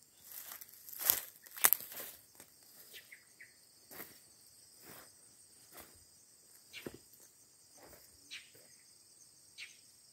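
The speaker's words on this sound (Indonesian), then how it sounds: "jangkrik." Crickets chirp steadily in a peanut field, a continuous high insect trill running throughout, while soft rustling footsteps and crackles sound at irregular intervals close by.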